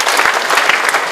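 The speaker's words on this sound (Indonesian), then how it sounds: "Tepuk tangan sekali lagi untuk Kementerian" A large audience at a comedy show applauds the Ministry in a dense, loud wash of clapping, brief and continuous.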